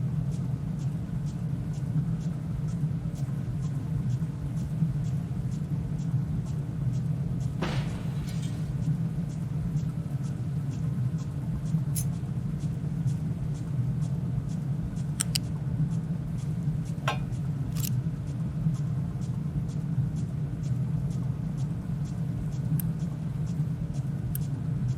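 A truck drives in the industry-building video game Captain of Industry, a steady low engine rumble throughout with occasional faint clicks and taps over it.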